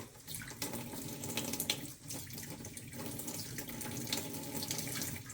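A kitchen tap runs water onto a tablespoon, a steady, close hiss of flowing water with splashy spatter as the stream hits the metal spoon, continuing throughout with no talk.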